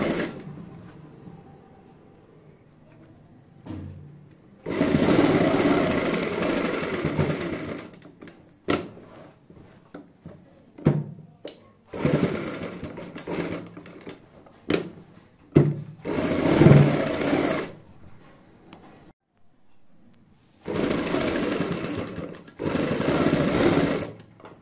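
A sewing machine stitches the neckline of a blouse in several loud, steady bursts, each running a few seconds, with quiet pauses and clicks between them and no talking over the runs.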